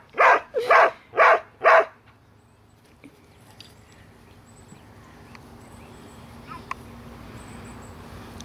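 A voice gives four quick yapping barks in imitation of a dog, followed by quiet room noise with faint scattered taps.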